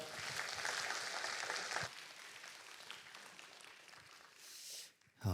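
An audience at a mission forum claps in a steady wash of applause that gradually thins and fades out near the end.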